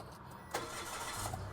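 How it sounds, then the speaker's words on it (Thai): A 2018 Mitsubishi Mirage 1.2 GLS is started with its push button, giving a short crank followed by a quiet, low, steady idle heard up close. "เดี๋ยวเราฟังเสียงสตาร์ทยนต์เขาบ้างครับผมก่อนสตาร์ทอย่าเบรกแล้วก็กดปุ่มสตาร์ทแบบนี้"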